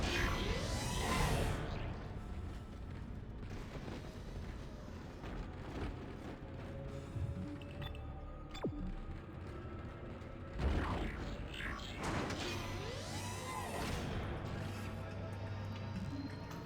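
A video game elevator moves upward with creaking, grinding machinery and ratcheting clanks. Two loud mechanical surges frame a steadier rumbling hum in between.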